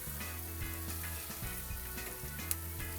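Bacon fries in a pan inside a caravan kitchen, giving a continuous close sizzle and crackle with faint stirring, under a backdrop of steady tonal music and no talking.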